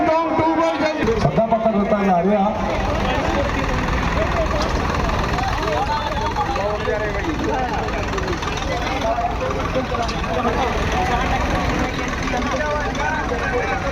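A Swaraj 855 tractor engine idles steadily and loudly throughout at a tractor tug-of-war contest, a low rumbling drone, with people talking over it.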